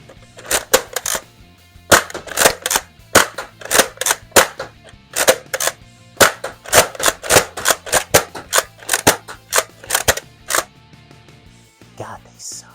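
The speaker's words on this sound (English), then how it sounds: "Now slam fire. Firing some elite darts" An X-Shot Insanity Berserko toy blaster slam-fires orange foam darts in quick bursts of sharp, close clacking shots, several rapid volleys separated by brief pauses.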